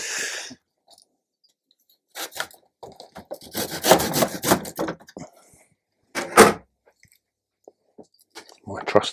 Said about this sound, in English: My trusty saw.